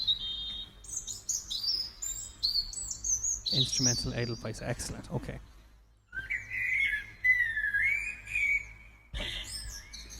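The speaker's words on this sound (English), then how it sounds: "this is Bird Song" Recorded garden birdsong of bright chirps and rising, warbling whistles fills the clip, with a short burst of speech partway through before the song returns.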